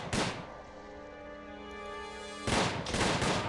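Gunshots from the Prison Architect game ring out in two loud bursts, one at the very start and another about two seconds later, separated by a sustained tonal hum.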